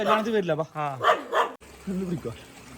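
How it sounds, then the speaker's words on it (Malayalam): A house guard dog barks several times in quick, loud bursts, then gives a shorter, quieter bark after a pause. "ഒരു വീടിന്റെ കാവലുള്ള പട്ടി"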